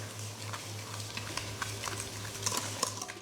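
Butter being mixed for a walnut tart, a steady stirring and scraping with small, irregular ticks and a low hum behind it. No one speaks.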